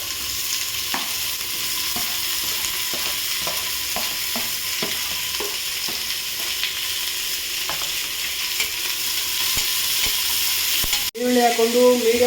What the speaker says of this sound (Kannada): ಈರುಳ್ಳಿ ಹಾಕ್ಕೊಂಡು ಮೀಡಿಯಮ್ ಫ್ಲೇಮಲ್ಲಿ ಬ್ರೌನಿಶ್ ಆಗುವಂಥ ಫ್ರೈ ಮಾಡ್ಕೊಬೇಕು ಗೈಸ್